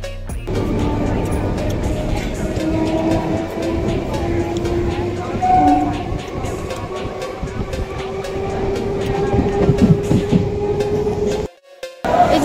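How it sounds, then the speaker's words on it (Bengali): A suburban passenger train heading toward Sealdah rumbles steadily from inside the carriage, with clattering wheels and low hum throughout and a brief drop near the end, while people talk over it. "ট্রেন ধরে আমি শিয়ালদার উদ্দেশ্যে রওনা দিচ্ছি।"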